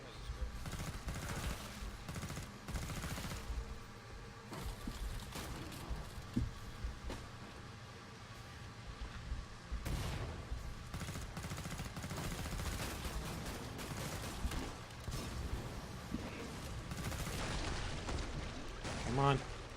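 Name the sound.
gunfire from a gun in the video game Killing Floor 2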